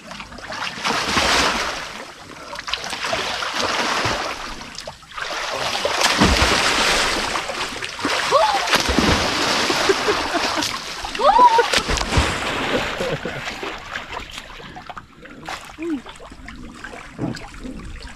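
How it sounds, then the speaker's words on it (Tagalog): Strong sea waves slap and splash around a small boat, with repeated heavy surges of water and spray crashing close by while people's voices call out over the rough water. "Lakas ng alon."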